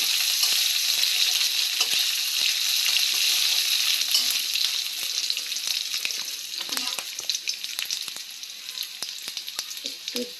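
Garlic paste hits hot oil in a pan and sets off a loud, close, crackling sizzle that keeps going and eases slightly toward the end, with faint clicks of a utensil now and then.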